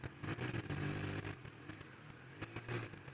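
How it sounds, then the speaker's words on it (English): A Triumph 1200 RS Speed Triple waits in town traffic, its exhaust giving a low, throbbing idle with small blips of throttle. Quiet clatter and scraping sit underneath, and there is no talking. "Absolutely lovely sound to the exhaust"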